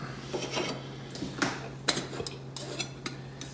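Lightweight metal pieces of an Esbit three-piece cookset clink and clatter as it is opened; several soft, close metallic taps and scrapes over a steady low hum.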